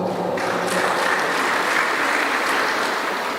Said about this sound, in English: we give her a very big round of applause